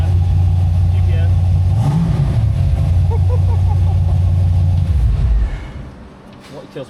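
A tiny camper's engine drones steadily and loudly close by, swelling briefly as the gas pedal is pressed, then cutting off near the end; people talk over it.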